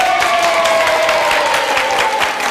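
A studio audience at a game show applauds loudly and steadily, a dense close clapping with light cheers.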